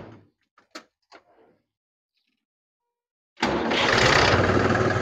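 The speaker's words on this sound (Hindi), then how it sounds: "तो अभी ट्रैक्टर स्टार्ट किया है, साउंड चेंज नहीं है।" A Mahindra tractor engine, one with a hydraulic problem, starts up after a few brief knocks and then runs loud and steady close by, a broad rumbling roar that fills the last stretch.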